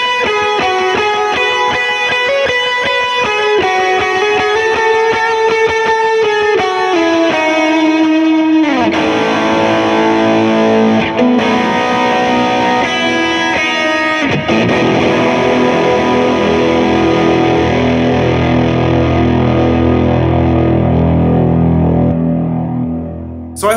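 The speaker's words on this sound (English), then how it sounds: "Another big reverb and delay sound." An electric guitar played through a Wrath overdrive pedal, a dual delay and a reverb in the effects loop: loud, continuous distorted notes and chords with long echoing repeats and a big reverb tail that rings out to the end.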